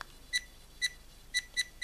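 An AKASO EK7000 4K action camera gives four short, high self-timer countdown beeps in an uneven rhythm, close and fairly quiet against a near-silent background.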